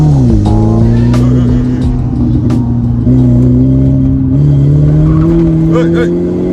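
A BMW 1 Series E88 with sport suspension accelerates hard on an open road, its engine note rising steadily and loud, with a short shift dip and the pitch climbing again. People exclaim over the engine noise.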